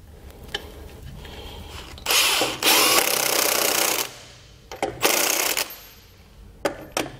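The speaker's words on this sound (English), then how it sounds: "With our lug nuts tightened down" A power tool tightening lug nuts on a trailer wheel, sounding in two loud bursts of about two seconds and one second, separated by quiet gaps and light clicks.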